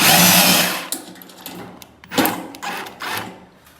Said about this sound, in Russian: Смещаемся от нее на 5 сантиметров и закручиваем саморез.